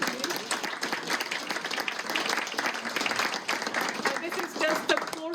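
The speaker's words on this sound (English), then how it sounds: "So a big applause for him." An audience applauds at a photo contest opening event, with lively, fairly close clapping filling the room for several seconds and voices murmuring beneath it.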